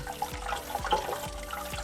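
Water gushes steadily out of a 1969 Chevrolet C10 radiator being flushed, a continuous close splashing rush with a few faint low thumps underneath.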